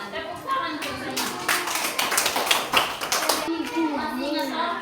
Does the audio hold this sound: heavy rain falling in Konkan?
no